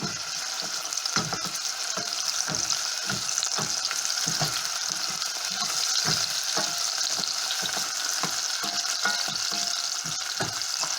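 Onion frying and caramelizing in a pan, a continuous close sizzle with a faint crackle and stirring taps throughout, no talk.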